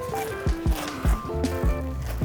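Foam insert pressed by hand into a DIY enclosure, giving a series of soft squeaky, rubbing squishes in uneven bursts, close up and fairly quiet.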